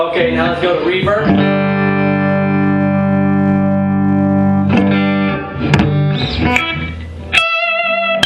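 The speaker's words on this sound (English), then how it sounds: "It gives that hall effect, if you can hear it." Electric guitar played through a Marshall JCM 900 amplifier with reverb engaged: a sustained chord ringing out with a hall-like tail, followed by a few picked notes and strums, loud and alone.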